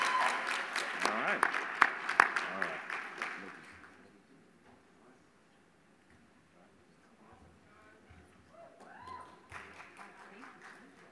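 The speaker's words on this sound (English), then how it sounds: "Everyone, let's give a round of applause to all of today's winners." Applause from a summit audience at South by Southwest honoring the day's winners, a dense burst of clapping for several seconds that fades out, followed by quieter room sounds with faint voices.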